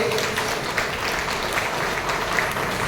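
An audience at a temple felicitation ceremony claps steadily, a continuous even patter of many hands lasting the whole few seconds without pause or speech.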